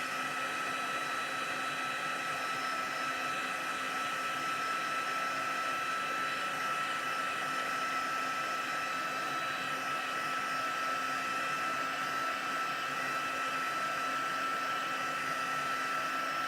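A blow dryer runs in a continuous loud, close whoosh over wet acrylic paint on an art journal page, holding a steady drone with no pauses.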